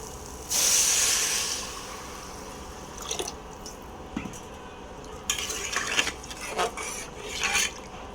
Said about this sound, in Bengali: চালগুলো হচ্ছে ভালোভাবে ভাজা হয়ে গেছে পানি দিয়ে দিই